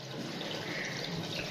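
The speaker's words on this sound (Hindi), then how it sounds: "अब ये दोनों बाल्टियाँ जाके जो है ना टैंकी में डालेंगे।" Diesel poured from buckets into a tractor's fuel tank, a steady continuous splashing liquid flow heard up close with no talking.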